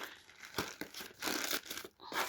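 A plastic parcel bag from AliExpress is handled and opened, giving quiet bursts of crinkling and rustling in irregular bunches with brief pauses, close to the ear and with no talking.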